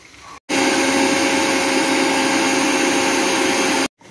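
A mixer grinder runs steadily at full speed for about three seconds, grinding roasted curry leaves into powder, starting and stopping abruptly and loud and close.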